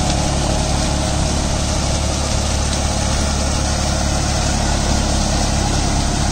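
Steady, loud engine rumble from a John Deere 5050 D four-wheel-drive tractor at about 1500 rpm, running a rotary tiller while puddling a field. The drone stays constant and close throughout.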